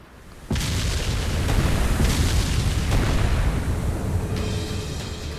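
Ship cannons fire in the video game Ys X Nordics as warships of the Balta Sea Force close in from the aft. A sudden heavy boom opens into a sustained, rumbling roar of explosions that stays loud throughout, with no voices over it.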